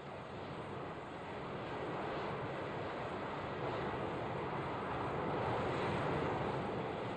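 Early British jet aircraft engine running in a sustained, dense roar that builds slightly in loudness, broad and steady with no voices over it.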